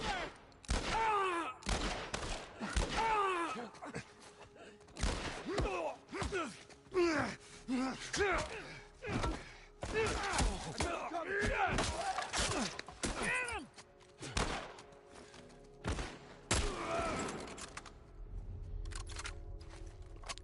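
Gunfire in The Last of Us Part 1: rapid bursts of loud shots and single cracks repeat throughout, mixed with grunts, gasps and shouting voices.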